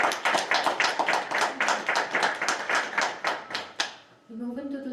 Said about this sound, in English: Can we have a round of applause for all the presenters?